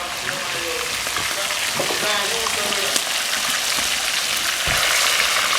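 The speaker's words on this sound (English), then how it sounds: "frying some fish" Loud, continuous sizzling and crackling of fish frying in hot oil, with a few faint voices and clatters in the background.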